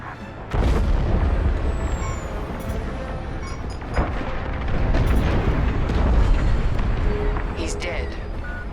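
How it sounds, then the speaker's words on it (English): A frigate explodes in the video game Star Wars: Squadrons: a heavy, rumbling boom with continuous loud roaring debris and engine noise and scattered crackles, under game dialogue. "The frigate is about to explode."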